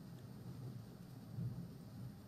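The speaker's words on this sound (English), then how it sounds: "I love the sound of the rain and thunder." Soft rain with distant low thunder rumbling in the background, steady and faint, with the rumble swelling slightly midway.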